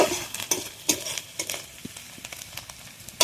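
Onions fry in a pan in a village home kitchen, a steady sizzle broken by repeated close scrapes and taps as a spoon stirs, with no talking.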